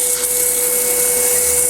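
A wood sanding tool running at 3,000 RPM on a wooden piece, a loud steady whir with a constant gritty hiss and a high tonal whine, unbroken throughout and close up.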